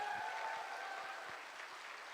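Faint, distant audience clapping at a hall gathering honoring a speaker, a short burst of scattered hand claps under a low ambient wash.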